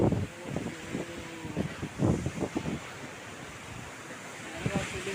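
Sea waves washing onto a beach in Kerala, a continuous surging wash with soft swells, while several people chatter and call out over it throughout.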